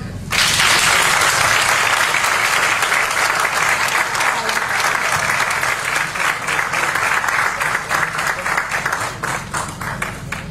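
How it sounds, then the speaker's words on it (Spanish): A conference audience gives a speaker after a talk on digital transformation a loud, vigorous round of applause, dense clapping that starts abruptly and stays strong for around ten seconds. "démosle entonces todo un aplauso"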